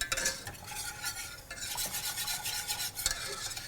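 A spoon scrapes and swirls through melting chocolate in a saucepan over low heat, a steady close scraping texture with faint sizzle underneath and occasional sharper clinks against the pan.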